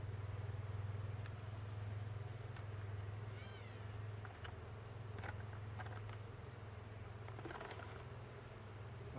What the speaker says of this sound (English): Bucket of bees.